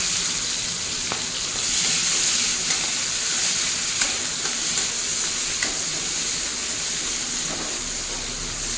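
Chopped onion frying in oil together with green chili and nigella seeds for a prawn curry, a steady loud sizzle and hiss close by with a few faint stirring clicks, and no one talking.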